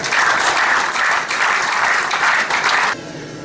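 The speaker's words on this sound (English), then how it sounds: "Please give her a round of applause." An indoor audience at an Eritrean Independence Day event applauds, a dense, loud burst of clapping that swells in waves for about three seconds, then cuts off abruptly.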